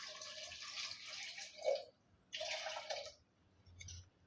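Two bursts of water pouring into a pot of sambar, the second shorter, with a faint clink at the end. Quiet pauses between them, no voices.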